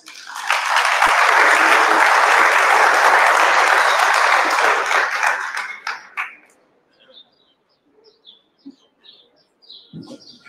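Strong applause at a 2023 school graduation ceremony, a loud sustained wash of clapping for about six seconds that fades quickly, leaving near silence with faint bird chirps.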